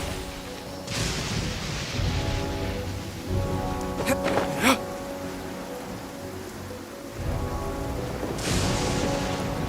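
Rain pours in Genshin Impact, a dense steady hiss across the whole scene, with a brief sharp crackle and boom of thunder near the middle before the downpour swells again.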